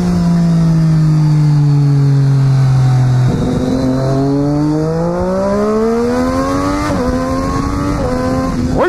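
A Triumph Daytona 675 R sport motorcycle revs hard and accelerates through the gears, its loud engine note climbing in pitch, dropping briefly at each shift and rising again, close and with no speech.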